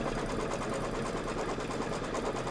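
A sewing machine stitches quilt-along pieces in a rapid, even run of motor hum and needle clatter, close and continuous for the whole stretch with no voice over it.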